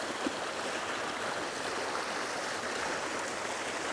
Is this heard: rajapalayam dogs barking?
no